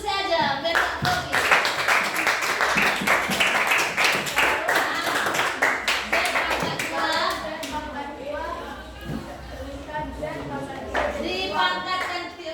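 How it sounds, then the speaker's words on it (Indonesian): A classroom audience claps their hands in a lively, steady burst throughout, mixed with children's voices and chatter, then the clapping thins while talking continues. "Tepuk tangan dulu untuk saya aja biar tak grogi."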